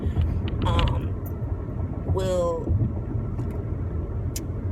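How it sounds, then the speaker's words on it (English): Inside a moving car, a low steady road and engine rumble runs beneath a person talking. "I'm driving as usual"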